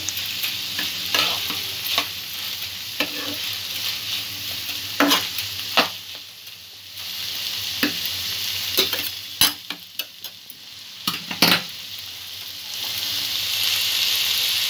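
Rice is stirred and fried in oil for carrot pulao, a loud continuous sizzle under repeated scraping and clinking strokes of a spatula against the pan, with no voices.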